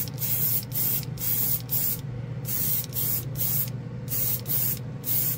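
A Master G79 three-in-one airbrush sprays paint in a series of steady hissing bursts of about half a second each, separated by short pauses. The sound is close and fairly loud, with no talking.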